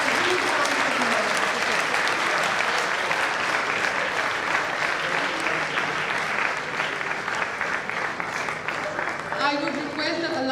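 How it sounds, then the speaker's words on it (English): Sustained audience applause at an awards ceremony honouring university alumni icons, a dense steady wash of clapping lasting throughout, with some voices mixed in near the end. "A huge round of applause."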